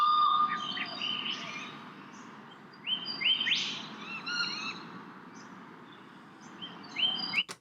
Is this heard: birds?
yes